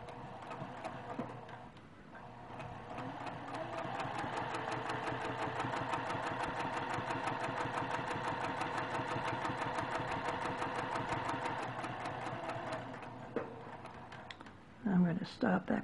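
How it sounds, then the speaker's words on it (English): A sewing machine stitches binding onto a quilt in one long steady run of rapid needle ticks, slowing and stopping near the end before a few louder handling clunks. "I'm going to stitch down to that pin"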